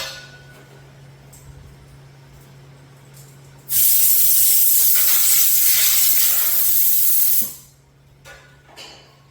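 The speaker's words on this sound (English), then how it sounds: "I'll blow it off real quick with the blower." Blower blasting air over the carburetor headpiece of a Craftsman M260 chainsaw, a loud, close hiss that cuts in abruptly, holds steady for about four seconds, then stops, with quieter shop handling sounds around it.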